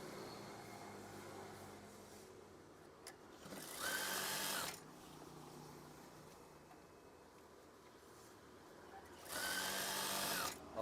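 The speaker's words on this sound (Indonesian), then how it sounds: "Oke, jahit terus hingga ke bagian akhir itu." A sewing machine runs in two loud, steady bursts while stitching along the edge of a wave-style curtain, with quieter mechanical hum and faint handling noise between the runs.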